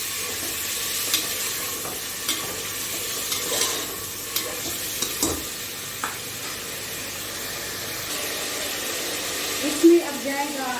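Two tablespoons of ginger and garlic fry in a pan for beef korma, a steady soft sizzle with occasional stirring scrapes and clinks, close and fairly quiet, no talk over it.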